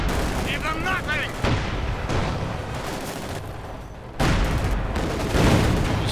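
Dense gunfire and battle explosions from the World War II strategy game Company of Heroes 2, with rapid bursts and booms layered loudly across the whole stretch and voices mixed into the din.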